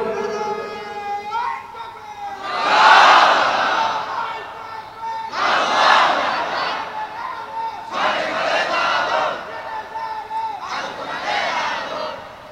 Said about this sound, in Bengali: এবার একজন যুবক লোক তাকবীর দেন তো দেখি